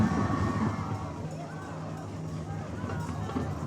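Crowd cheering and shouting in the stands at a Thursday night high school football game at French Field, a broad, moderately distant roar with scattered voices and whoops.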